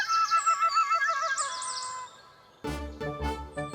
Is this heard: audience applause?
no